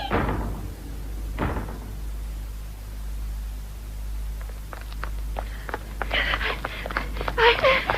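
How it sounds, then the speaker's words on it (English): A door being broken down as a radio-drama sound effect: heavy thuds and splintering impacts, then scattered knocks and crashes under hurried talk. "You break the door down. Hurry!"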